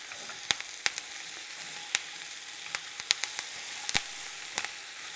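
Mushrooms sizzle and fry in oil and butter in a pan, a steady crackling hiss broken by irregular sharp pops and spatters, close and fairly soft, with no talking.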